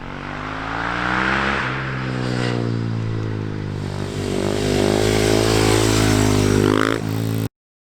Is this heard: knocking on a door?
no